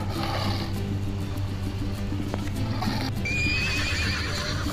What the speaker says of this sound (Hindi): अस्तबल होर्स घोड़ा